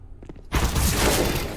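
Desert Eagle pistol fire in a Counter-Strike style video game: a faint lead-in, then a sudden loud blast that rings out into a sustained, dense burst of gunfire and noise filling the rest of the moment.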